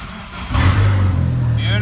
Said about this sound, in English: the car should start just with the key in